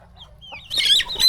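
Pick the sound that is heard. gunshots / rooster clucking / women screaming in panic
rooster clucking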